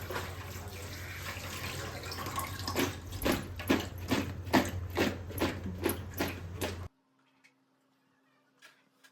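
Tap water runs into a sink while okra is washed, splashing in uneven rhythmic bursts as the pods are handled under the stream, then shuts off, leaving near silence with a few faint drips.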